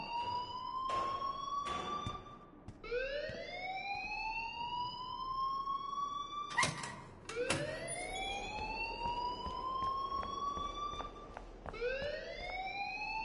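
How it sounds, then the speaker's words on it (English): Alarm wailing in the video game Life is Strange: a loud electronic tone that sweeps upward again and again in steady repeating cycles, continuous and alone with no talk. "please turn off that alarm since that's your job"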